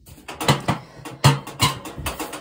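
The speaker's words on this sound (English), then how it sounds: "I'm trying to get this can open." Metal can being worked open, a series of close scraping, clicking and rattling bursts in an irregular rhythm, fairly loud with no talking.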